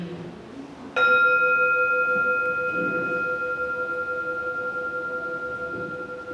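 A single bell struck during a Unitarian Universalist church service rings out clearly after a moment of quiet, its pure tone sustaining and slowly fading through the rest of the clip.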